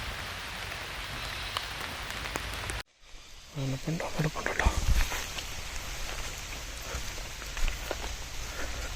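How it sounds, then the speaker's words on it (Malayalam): Light drizzle falls in the Periyar forest, a soft continuous patter on leaves with a few nearby footsteps; a voice speaks briefly partway through. "നല്ല ഈ മഴക്കാറുണ്ട്, ചാറ്റൽ മഴയുണ്ട്"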